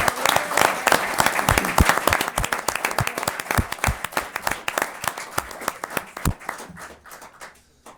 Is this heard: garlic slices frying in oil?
no